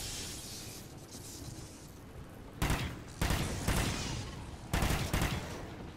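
Call of Duty: Ghosts Extinction gunfire using incendiary ammo, with a steady stream of shots under a low rumble and three louder bursts of rapid fire breaking through toward the end.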